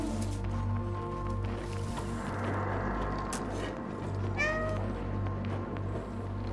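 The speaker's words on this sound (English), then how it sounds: "I distract him by hitting meow" A video game cat gives a short meow with a rising, wavering pitch, heard once partway through over steady in-game background music and ambience.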